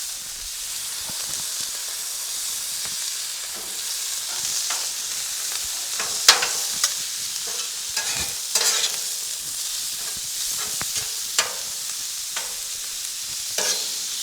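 Taco meat being chopped up with a spatula on a Blackstone griddle: a steady frying hiss with scattered sharp metallic scrapes and taps at an irregular pace, close and fairly loud, with no voices.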